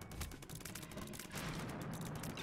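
Rapid gunfire from an in-game gun in The Binding of Isaac, with an Incubus familiar firing extra shots: a dense, continuous crackle of overlapping shots and explosions that grows louder midway, with no talking.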